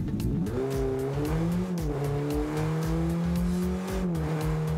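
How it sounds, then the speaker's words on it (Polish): A Volkswagen Golf car engine in the video game Rocket League hums steadily with a sporty, buzzy tone, its pitch rising and dipping slightly as it revs, loud and close throughout. "zobaczmy dźwięk silnika."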